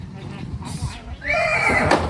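A mare lets out a loud, close whinny that rises and trails off near the end, preceded by rustling and shuffling movement; people talk nearby around it.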